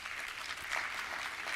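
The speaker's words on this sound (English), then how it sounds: "A round of applause for our presenters, please." Faint, brief applause from a conference audience for the presenters at a Caribbean Maritime University industry conference, a soft, even patter of clapping lasting under two seconds.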